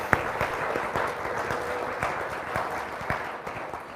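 A church congregation applauds together, a steady, moderately loud clapping crowd sustained throughout with a few sharper individual claps standing out, no talking.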